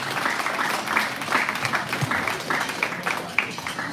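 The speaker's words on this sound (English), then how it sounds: "go ahead and give these exhibitors a round of applause" Audience applause at a Boise City public school livestock show, steady clapping from a crowd filling the whole stretch at moderate loudness, with faint voices underneath.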